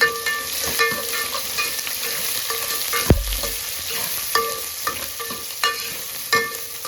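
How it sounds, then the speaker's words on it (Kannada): Onions sizzle and fry in a pan for palak sprouts dal, with steady crackling and occasional stirring scrapes. One knock is heard partway through, and no one speaks. "ಈರುಳ್ಳಿ ಹಾಕ್ತಿದ್ದೀನಿ."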